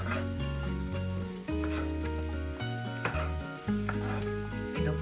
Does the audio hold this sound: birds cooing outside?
no